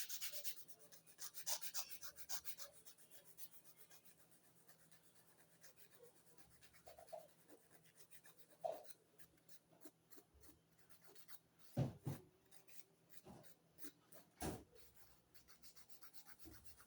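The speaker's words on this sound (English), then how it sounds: "Just a slight filing on the surface of the nail." A nail file rasping across the surface of a fingernail while shaping nails, faint scattered strokes at first, then a few sharper, louder scrapes near the end, with no voice.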